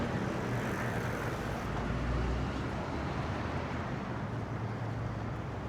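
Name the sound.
heavy road traffic in central London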